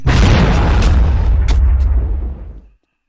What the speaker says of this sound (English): I think I'll throw a pumpkin grenade at her first